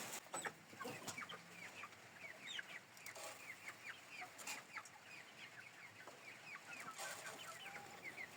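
Two-month-old young chickens cluck and peep busily while scattered grain and greens are fed to them in a village yard, many soft overlapping calls close by with no talk.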